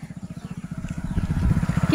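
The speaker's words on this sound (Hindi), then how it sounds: "कितना देर के बाद अभी एक बाइक दिखाई दे रही है" A motorcycle travels along a village dirt road, its engine putting out a steady, rapid chugging pulse that grows louder as it approaches, with faint talk in the background.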